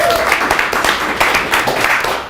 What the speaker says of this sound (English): Let's give Robert a round of applause.